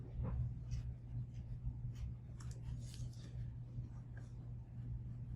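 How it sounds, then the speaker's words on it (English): Soft, faint tapping on a Chromebook keyboard as a web address is entered, a short run of light clicks over a steady low hum. "I can go up into the web address bar, and I could type, for example, Lincolnwood Library"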